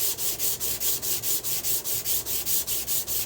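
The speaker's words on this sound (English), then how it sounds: "Flipped it over, and then sand the reverse side." Hand sanding the reverse side of a metal sheet with rounded corners, a steady, rhythmic back-and-forth scrubbing of about four strokes per second, close and alone.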